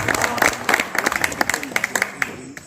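Audience clapping at a mushaira poetry gathering, scattered individual claps forming a short, uneven round of applause that thins out toward the end, with a voice audible beneath it.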